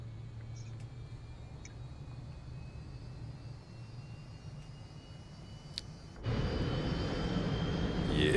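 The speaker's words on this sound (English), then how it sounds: "now we can hear the turbine firing up" The Bo-105 helicopter's turbine starts up in Microsoft Flight Simulator 2024, a steady engine whine that swells into a louder, broader rushing roar near the end.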